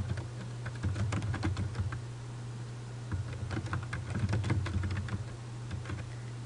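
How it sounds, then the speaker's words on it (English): Steady typing on a computer keyboard, quick irregular key clicks in bursts with short pauses, close and clear over a low electrical hum, no voices. "I'm going to type in Barry's Landscaping Service"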